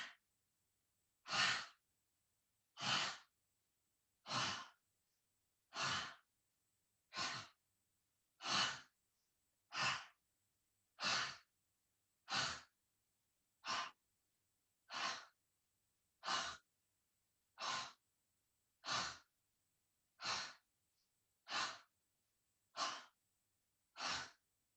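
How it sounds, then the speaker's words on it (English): Forceful yoga exhales with a breathy "ha", repeated about eighteen times in a steady rhythm, each a loud, close, wide breath burst separated by short silences. "Inhale forward, exhale, suck the belly in."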